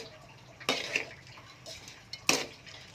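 Soil mix for cactus and succulents being stirred and cooked in a metal pan gives a few scraping, clinking strikes with short gritty rustles between them, close and moderately loud, with no voices.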